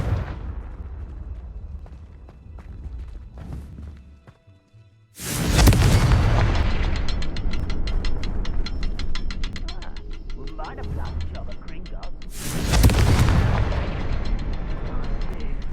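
Two heavy Confringo fire-spell blasts boom in Hogwarts Legacy, each a sudden loud burst with a crackling, rumbling tail, the first after a quiet stretch and the second several seconds later. No talking.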